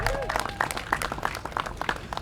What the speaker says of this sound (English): We get a big hand applause from that.